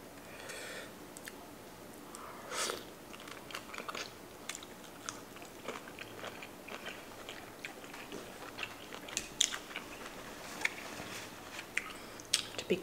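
Shrimp cocktail eaten close to the mic at a Christmas dinner mukbang: sharp bites and soft, wet chewing come in irregular bursts over a quiet background, with no talking.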